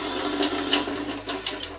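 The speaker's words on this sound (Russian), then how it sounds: "Так, промыли мы проточной водой." Running water gushes steadily from a tap, a continuous close splashing hiss with no talking.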